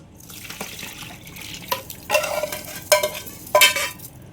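Fried spices are stirred into a mango pickle mixture, giving scraping, wet mixing sounds in a few louder bursts over a quiet background.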